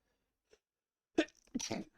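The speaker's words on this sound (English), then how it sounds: "bless me, I sneeze" After a moment of near silence with one tiny click, a single sharp sneeze bursts out, followed by a brief vocal sound.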